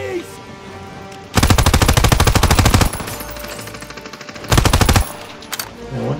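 Rapid automatic gunfire from the Call of Duty WW2 campaign, two loud sustained bursts of rattling shots separated by quieter battle ambience, with a short distant burst at the end.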